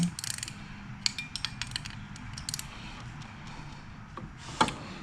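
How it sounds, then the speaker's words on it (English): A ratchet wrench's ratcheting head clicks in a tight spot during well pump and motor assembly, producing sparse, quiet clustered clicks and a faint metallic tick near the end over a low background hum. "Didn't think I could get the ratcheting head in there, but I can."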